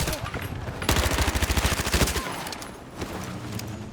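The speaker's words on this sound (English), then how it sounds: "Returning with all of its 3-shot burst glory, the M16 fits perfectly into the AR category" M16 rifle firing three-round bursts in a shooter video game, a rapid run of sharp, close, loud shots repeating in quick groups, then fading to softer, scattered shots and game ambience.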